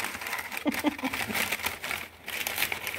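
Wrapping paper crinkles and rustles up close as it is handled and torn off a collectible, with a voice speaking briefly over the crackling.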